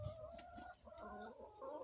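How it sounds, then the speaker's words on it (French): A small Sussex hen clucks close by in a farmyard, a steady run of short clucks and murmuring calls with faint bird chatter behind. "Puis là une super petite poule"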